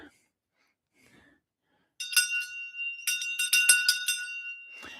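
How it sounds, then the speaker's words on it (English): A Tibetan shang bell rings during a Chod meditation, its bright metallic strikes arriving in close clusters after a near-silent start and shimmering on, near and clear with no other sound. "the shang bell"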